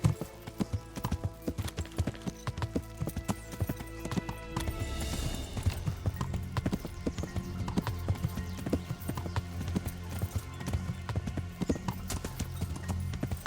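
Steady clip-clop of horse hooves trotting in the video game Kingdom Come: Deliverance, at an even rhythm, close and clear, continuing throughout with faint background ambience.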